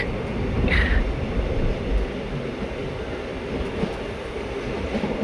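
The Talguppa–Mysuru intercity express rolls along through farmland and forest toward Sagar station, a steady close rumble of wheels and carriages that holds at an even level throughout, with one brief higher squeal near the start.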